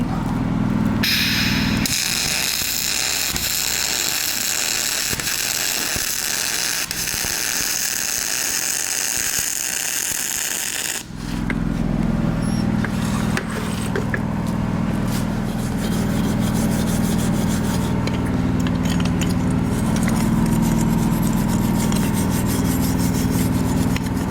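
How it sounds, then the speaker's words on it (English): MIG welding with a Spool-o-matic spool gun powered by a Trailblazer 325 engine-drive welder, a loud continuous crackling buzz of the arc, with a brief shift in tone partway through, close and steady. "First weld with the new spool-o-matic."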